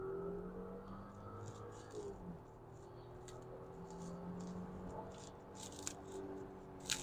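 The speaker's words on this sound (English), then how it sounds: "Now we're going on the motorway and we're going to accelerate full throttle." A VW Touareg pulls hard at full throttle on a motorway, its synthesized engine note a steady low drone with a slowly rising harmonic, faint and steady under cabin road noise with occasional light clicks.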